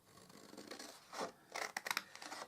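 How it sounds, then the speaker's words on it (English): Scissors snip up the sides of a cardboard hamper gift box, several short crisp cuts and rustles, faint and close, with no talking. "we're going to cut it up each side"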